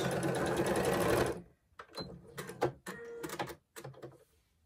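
Sewing machine stitching a back stitch on a fabric crochet hook roll, a steady close whir for about a second, then short bursts of stitching with pauses, with no talk.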